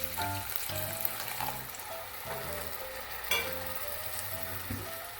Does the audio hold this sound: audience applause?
no